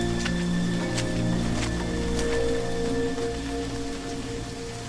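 Steady rain in the horror game Remothered: Tormented Fathers, a constant hiss of falling water with scattered droplet ticks, heard alone beneath faint tonal game ambience.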